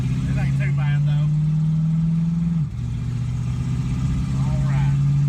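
A car engine with draggy brakes holds a steady low hum while rounding a turn, briefly dipping in pitch midway, then settling back to a constant drone. Someone talks softly over it.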